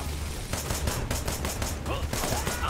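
Gunfire in the video game Wanted: Dead, a dense fast burst of repeated shots under a constant roar of battle, loud and close throughout.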